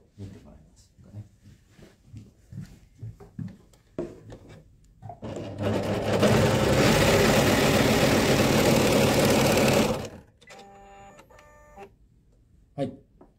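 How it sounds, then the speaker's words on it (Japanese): A JUKI MO-3000 serger sewing machine runs in a loud, dense whirring burst of about four seconds as it cuts the threads, with softer clicks and handling noises before and after. "このようにカラカンをミシンの方で切ってくれるという機能になります。"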